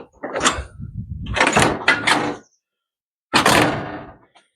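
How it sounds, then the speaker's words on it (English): A 1963 Ford F1 pickup's door is swung open and shut a few times, with brief creaks and solid thumps separated by a short pause. "How good these doors open."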